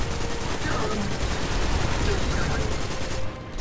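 Automatic rifle fire in Destiny 2 rattles on as a dense, continuous volley, loud and close throughout, with game sounds layered in and dropping out briefly near the end.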